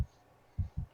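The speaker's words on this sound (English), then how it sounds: "the reason you are hearing a heartbeat" A heartbeat sound effect playing during a tabletop game, one deep low thump at the start and then a quick double lub-dub pulse, muffled and soft.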